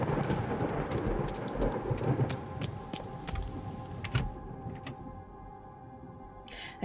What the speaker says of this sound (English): We should probably get out of the rain.